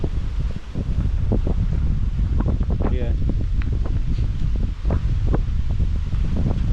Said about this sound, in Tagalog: Ayan o, lakas ng hangin.